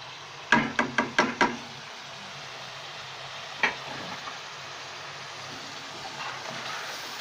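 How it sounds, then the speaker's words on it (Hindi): Spices frying in a pan over a high flame while yakhni is being prepared. A steady sizzling hiss runs throughout, with a quick run of five sharp knocks near the start and a single tap later. "इसको हाई फ्लेम पे भूनना है"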